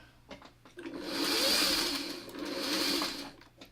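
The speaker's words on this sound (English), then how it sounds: "now I'm going to sew from here down" A sewing machine stitches down a length of fabric in one continuous whirring run, rising and easing twice with a steady mechanical hum, close and alone with no talking.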